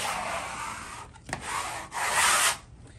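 Wallpaper is pressed and rubbed into a corner to squeeze out excess paste, giving soft scraping and rubbing strokes: a long swipe, a brief tap, then a louder sweeping rub, close by with no talk.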